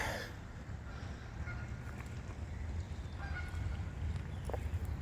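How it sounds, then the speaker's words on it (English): Young geese at a creek give faint, scattered honks over a low rumbling outdoor background, a few calls standing out briefly amid steady ambient noise. "Look at all the young geese."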